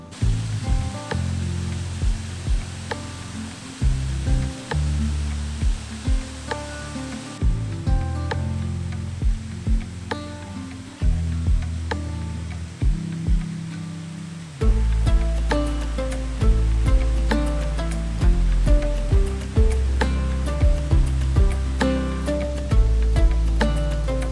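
A large waterfall near Harlech Castle makes a steady, loud roar of falling water with no voices over it.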